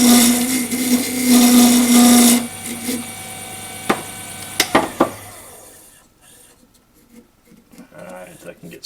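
Power tool briefly cutting a lanyard groove into a wooden duck call, a loud whirring grind for a couple of seconds, then a few sharp knocks and faint handling noises.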